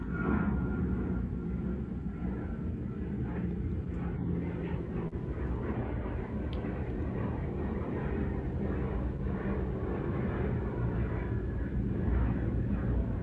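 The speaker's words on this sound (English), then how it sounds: "I can hear an aeroplane" A continuous low roar of an aeroplane flying overhead near an airport, steady and fairly loud throughout with no gaps, heard alone without speech.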